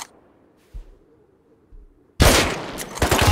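Loud rapid gunfire erupts in the survival game Rust after a quiet stretch with a couple of soft thuds, the shots cracking close together in a dense burst.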